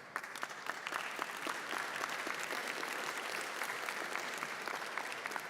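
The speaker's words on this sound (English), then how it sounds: "I see some enthusiastic claps." Applause from a party congress audience in Vienna fills the hall, a steady dense clapping that holds evenly throughout without any talk over it.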